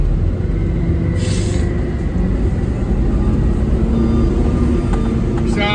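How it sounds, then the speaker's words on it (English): A freight train passes in the background as a constant low rumble with faint metallic tones, steady and distant for the whole stretch, with no voices. "there's a freight train right there in the background"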